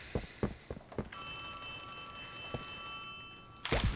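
A telephone rings in the Poppy Playtime Chapter 3 video game, a sustained electronic ring lasting a few seconds, preceded by soft footstep-like thumps and quiet room ambience.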